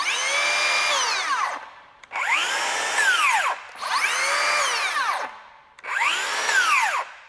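Makita XGT 40V power tool motor whirring up to full speed in four separate runs, each a high, steady whine that rises on startup and falls away on braking, loud and close.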